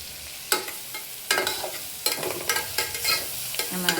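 Onions sautéing in a pan hiss softly while a spoon scrapes and stirs them in a few distinct strokes, close and clear, with no voices.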